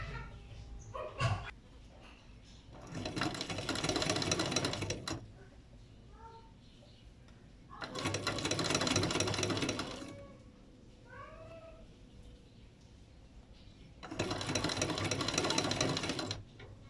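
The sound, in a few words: sewing machine stitching a folded side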